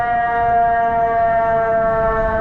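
A loud, steady ambulance or fire truck siren wails continuously nearby on a street in Ontario, Canada, its rich tone filling the whole stretch with no speech.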